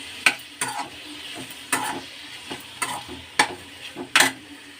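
A spoon stirs tomato chutney with tamarind in a pan, giving about eight distinct scraping strokes at an uneven rhythm over a soft, low sizzle, close and alone with no voices.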